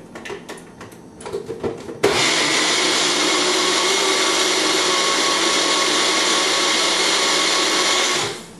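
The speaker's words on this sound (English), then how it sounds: "we're going to put our cap on and we're going to blend this together until it becomes a consistency very similar to the pancake mix" An electric blender mixes protein pancake batter. Brief clatter and rattling come first, then the motor kicks in abruptly and holds a loud, steady whir for about six seconds before cutting off.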